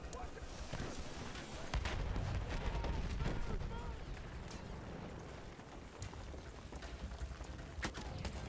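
Battlefield 1 gameplay gunfire crackles in rapid, repeated bursts with sharp individual shots amid dense battlefield noise, loud and continuous.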